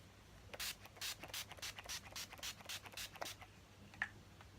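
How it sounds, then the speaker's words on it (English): Urban Decay De-Slick setting spray is misted onto a made-up face in a series of quick, short, hissing pumps, roughly a dozen bursts in a fairly even rhythm, close and soft, with no speech. "I'm going to be just setting that with the Urban Decay De-Slick setting spray."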